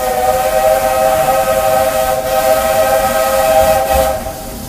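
Steam locomotive whistles on the Walt Disney World Railroad in the Magic Kingdom sound a loud, steady, multi-tone blast that holds for several seconds with a breathy hiss, then cuts off near the end.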